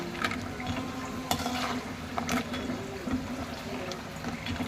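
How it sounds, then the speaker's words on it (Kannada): Kodubale fry in hot oil over a medium flame, a moderate bubbling sizzle with intermittent stirring and scraping sounds close by. "ಈ ರೀತಿ ಗೋಲ್ಡನ್ ಬ್ರೌನ್ ಆಗೋವರೆಗೂ ಮೀಡಿಯಮ್ ಉರಿಲಿ ಫ್ರೈ ಮಾಡಿ"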